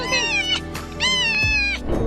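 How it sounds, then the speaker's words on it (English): A cat reunited with its owner meows repeatedly and happily, with two long, clear, loud cries and a few shorter ones, close by and with no talking. "listen to these sounds of happiness when the girl realizes that she's found her lost cat"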